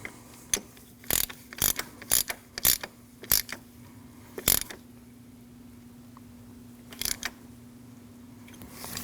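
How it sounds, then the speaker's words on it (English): A socket ratchet tightens a new oil pressure sender on a 2003-2008 Subaru Forester 2.5L H4, giving bursts of crisp clicking, several quick ratchet strokes in a row, then a pause and a final short pair, close and alone. "Put your socket down, tighten it"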